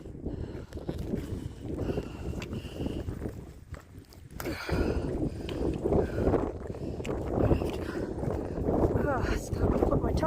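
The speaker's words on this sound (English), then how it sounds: "Quite breezy up here." Breezy wind gusts across an exposed Appalachian Trail ridge near Saddleback Jr. and Poplar Ridge, a steady rushing buffeting close to the microphone throughout, swelling after a brief lull midway.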